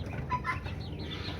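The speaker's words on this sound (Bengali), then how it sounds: "এই যে এটি হলো মালয়েশিয়ান, পৃথিবীর সবচেয়ে ছোটো মুরগি" Soft clucking from a Malaysian chicken, the world's smallest breed, kept on a farm with other chickens: several low, quiet clucks close by over a steady hum, with no talking.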